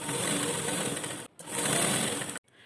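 A sewing machine runs a fast, steady stitching burst while sewing a lined jacket, pausing briefly, then running again before stopping, close and loud with no voices.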